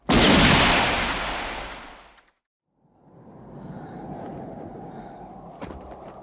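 A gunshot from the Western film Once Upon a Time in the West. A loud, close blast is followed by a long, ringing decay that fades into near silence, then a low ambient rumble with a few faint clicks.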